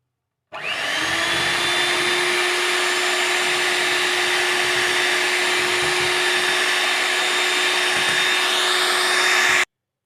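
An electric beater whips cream with powdered sugar, starting abruptly and running as a steady, close, high-pitched motor whir for about nine seconds before cutting off, with no talking.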